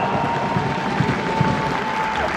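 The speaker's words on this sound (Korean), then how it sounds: "박수 부탁드리겠습니다." Audience applause at a Daegu FC welcome ceremony for returning players, a steady dense patter of clapping from a crowd throughout, moderately loud with a faint steady tone underneath.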